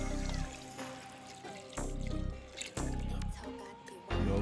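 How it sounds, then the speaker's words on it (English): Water poured into browning pepper steak with brown gravy in a pan, coming in several sloshing pours separated by short pauses, heard up close over cooking noise. "Now you add in your water."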